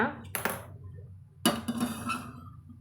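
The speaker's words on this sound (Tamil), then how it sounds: "நம்ம அடுப்பத்தை வச்சு நம்ம ஒரு வாணலி வச்சுக்கலாங்க" A wok set down on a kitchen stove gives two sharp metallic clanks, close and clear, with a short ringing tail after each.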